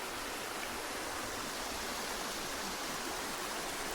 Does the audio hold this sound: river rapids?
yes